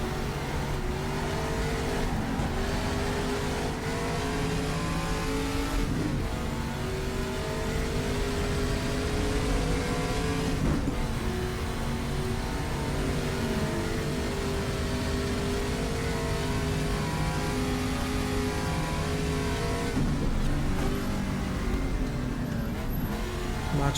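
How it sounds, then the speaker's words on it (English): A Ferrari race car in the GTR2 racing game holds a steady, droning engine roar at Österreichring. The sound is continuous and fairly quiet, with no talk over it. "Now will arrive the Ferrari of Merzario Regazzoni, I think."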